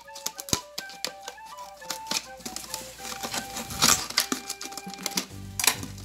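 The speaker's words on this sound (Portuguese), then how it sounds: "Aí eu vou só abrir mais um pouquinho com a tesoura, ó." Scissors snip and crunch through a PET plastic soda bottle being opened up for a cement seal craft, a run of close, sharp clicks and crackles with a rustling burst near the end and no talk.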